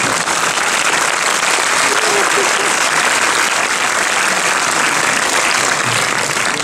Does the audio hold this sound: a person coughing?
no